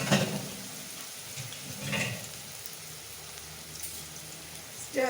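Coarsely ground ginger and garlic frying in a little oil, a low, faint sizzle with a few short bursts as it is stirred, no speech.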